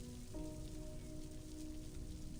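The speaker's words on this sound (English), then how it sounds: "Is that rain I hear?" Steady rain falling in the game Reverse: 1999, a soft, even hiss of drops on surfaces with a faint low tone fading in the first half-second.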